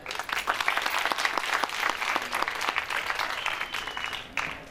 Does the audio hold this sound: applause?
yes